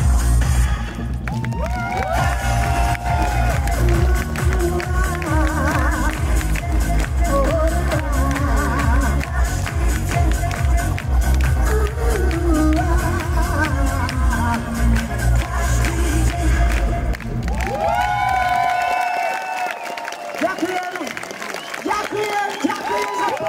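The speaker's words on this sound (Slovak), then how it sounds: "Ďakujem za potlesk" Live audience applauding and cheering after a song at a concert in Poprad, a dense sustained wash of clapping and crowd noise mixed with music, loud and continuous, fading near the end as a voice speaks.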